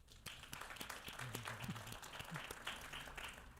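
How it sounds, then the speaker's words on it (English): Audience at a central bank public forum in Soweto applauding, a faint, steady patter of many hands clapping from a distance, with a few voices mixed in. "I think you can give yourselves a round of applause"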